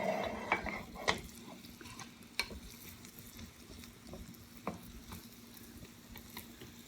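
Coated mushrooms sizzling in a pan as they are pushed around, a soft steady frying hiss with scattered light scrapes and taps of a utensil against the pan.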